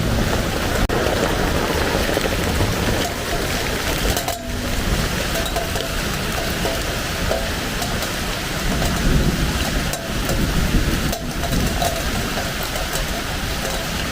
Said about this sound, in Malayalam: നല്ല ഇടിയുണ്ട്. നമ്മുടെ ഇവിടെ നിന്ന് നല്ല വെള്ളം വീഴുന്നുണ്ട്